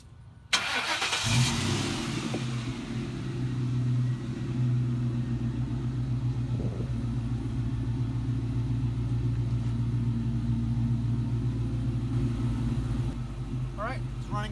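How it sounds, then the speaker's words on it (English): A Mustang GT engine with a Thrush welded muffler starts up and settles into a steady, low rumbling idle, its deep exhaust drone holding evenly and close. "All right, it's running good. No smoke. Exhaust system sounds great."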